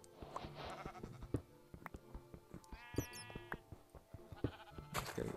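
Sheep in Minecraft bleat several times over a busy game soundscape of tonal effects and clicks, the bleats clear and moderately loud, with a brief high chime partway through.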